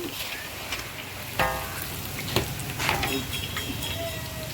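Boondi frying in hot oil: a steady, close sizzle with bursts of crackle and a few scraping clatters from a ladle or spoon, no speech.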